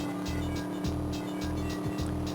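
In the Game Boy Advance game Driver 2 Advance, a car whips through a handbrake turn. The engine drones steadily while short, repeated tire squeals chirp through the manoeuvre.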